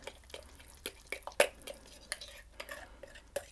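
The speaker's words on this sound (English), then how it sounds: "Simply going to stir that back" A rice flour mixture for Dutch tiger bread rolls being stirred in a bowl, quiet wet clicks and taps at close range with no voices.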